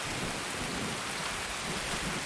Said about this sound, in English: This rain that we're hearing sounds like rain hitting tin roof